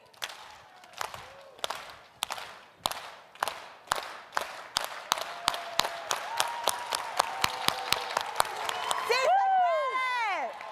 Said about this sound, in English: we're going to close with a unity clap